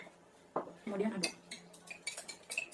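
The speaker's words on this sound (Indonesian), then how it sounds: "Kemudian aduk." A jasmine herbal antiseptic soap mixture being stirred in a container, with a few faint clinks and scrapes of a utensil against the vessel, quiet and close.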